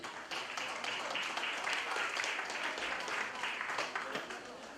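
Audience at a school year-end celebration applauding the director, a dense wash of clapping sustained through the whole span at moderate distance, with voices mixed in.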